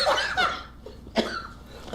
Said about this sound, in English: Why I got the same cough?